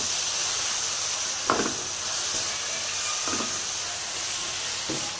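Ground spices such as coriander, cumin and turmeric in masala fry in a pan with a steady sizzling hiss, broken by a few brief stirring scrapes.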